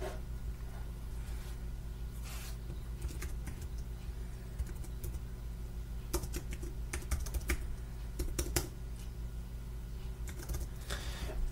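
Computer keyboard typing in bursts of quick, irregular keystrokes, moderately close, over a steady low mechanical hum like a running engine in the background; no one speaks.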